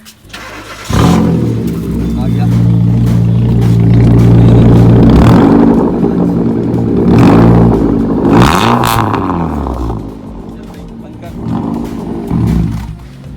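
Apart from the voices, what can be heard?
car engine revving with straight-pipe exhaust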